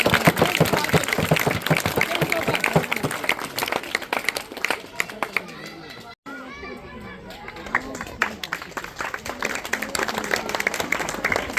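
Applause from the audience at a school award ceremony, sharp scattered claps mixed with crowd chatter and children's voices, with a person talking over part of it and a brief dropout in the middle.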